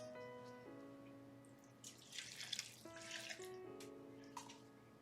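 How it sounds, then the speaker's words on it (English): Distilled water pours onto shredded soap in a crock pot, a soft trickle and splash that swells into a brief, faint gush over a quiet room hum. "I am adding some distilled water to this."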